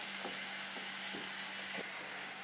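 Potato filling for pies stews and sizzles gently in a pan, a faint steady frying hiss broken by a few soft stirring taps.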